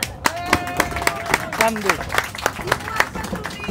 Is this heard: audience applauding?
yes